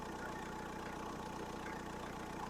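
A Renault Kangoo turbo diesel 4x4 van engine idles steadily from a cold start with a rough, knocking chug, constant and fairly quiet, with no voices.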